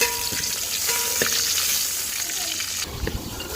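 Tomatoes frying in oil, a dense, close sizzle that holds steady throughout, with a few soft clinks and stirring knocks near the end.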